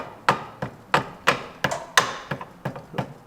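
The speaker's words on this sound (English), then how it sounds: "Using a brass hammer." A brass hammer taps a grease seal into an MGB banjo rear differential, about ten sharp, close metallic knocks in an uneven rhythm, heard alone.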